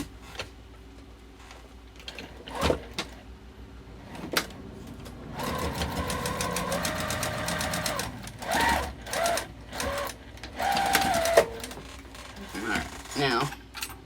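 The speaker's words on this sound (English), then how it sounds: "Sew our gussets together right along the edge." A sewing machine stitches wallet gussets together along the edge in short bursts, with clicking and handling noises between runs and close, fairly quiet mechanical whirring.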